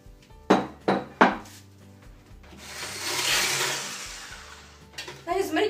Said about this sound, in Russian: выливаем молоко и размешиваем до однородной массы